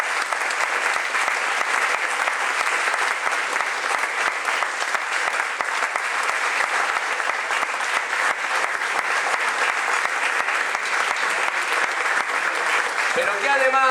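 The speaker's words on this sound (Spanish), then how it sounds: "Le damos un fuerte aplauso a Rosana." Audience at a political event at a militancy faculty claps in sustained, dense applause for Rosana, steady and loud throughout with no pauses.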